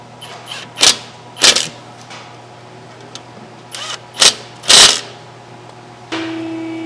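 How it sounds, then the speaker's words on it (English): Impact gun driving in rear brake bolts on a 2015 Ford F150, several sharp loud ratcheting bursts in quick succession with short pauses between, ending in a steady hum. "now we're gonna grab our impact and we're going to gun them in"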